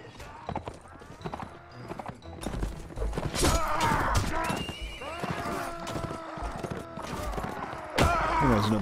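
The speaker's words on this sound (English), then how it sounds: "There's another horse going down." Horses neighing and whinnying amid galloping hoofbeats in a nighttime battle in the video game Mount & Blade, repeated loud whinnies over continuous clip-clop and clashing, with a sharp burst near the end.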